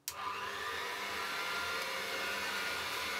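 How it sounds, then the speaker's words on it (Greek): A hand mixer fitted with a kneading hook churns cold cubed butter with flour for a pumpkin sweet, starting abruptly and running as a steady, loud, continuous motor whir with no talking. "Θα πάρουμε το μίξερ χυρός και με αυτό εδώ το εργαλείο θα το ζυμώσουμε."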